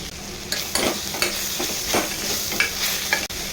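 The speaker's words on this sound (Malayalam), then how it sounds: "ഇതിലേക്ക് നമുക്ക് സവാള ഇട്ട് കൊടുക്കാം ഇതൊന്ന് വഴറ്റിയെടുക്കാം" Salted onions sautéing in a pan, a loud close sizzle with repeated spatula scrapes and stirs, cutting off abruptly at the end.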